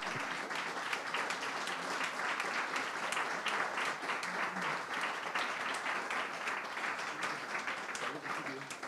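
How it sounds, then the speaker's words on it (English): A crowd at a film festival awards ceremony keeps up steady applause, a dense, unbroken patter of many hands heard at a moderate distance, with some talking mixed in under the clapping. "Got to keep the applause going."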